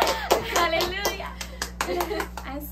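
A church congregation claps during a sermon, a short, moderately loud burst of hand claps with voices over it.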